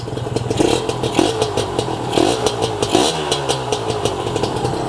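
A motorcycle engine runs close by with a rhythmic, clattering idle and small pulsing rises in revs.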